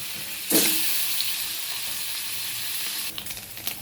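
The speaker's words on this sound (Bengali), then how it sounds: "এবার পনিরটা ভেজে নেব দেখুন দিয়ে দিচ্ছি পনির" Paneer pieces dropped into hot oil seasoned with salt and turmeric, setting off a loud burst of sizzling that settles into a steady, bright frying hiss, with a few clinks near the end.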